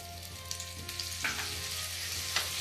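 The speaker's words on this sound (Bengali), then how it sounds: "কড়াই গরম হয়ে গেছে, 1 চামচ বাটার দিচ্ছি," Steady, bright sizzling of a spoonful of butter in a hot wok, with a few light clinks and scrapes over the constant frying hiss.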